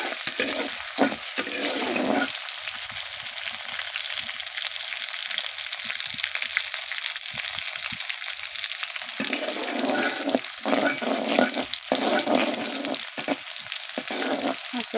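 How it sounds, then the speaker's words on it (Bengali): Onions fry in hot oil, a dense crackling sizzle heard close up with intermittent stirring and spatter throughout, no talking. "তেলটা গরম করতে হবে, তারপর আমি পেঁয়াজগুলো দিয়ে দিব।"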